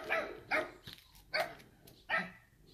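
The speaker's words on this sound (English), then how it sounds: "Puppies barking at an alpaca." Puppies in a yard bark at an alpaca, giving about five sharp, close yips and barks in quick succession with short gaps between them.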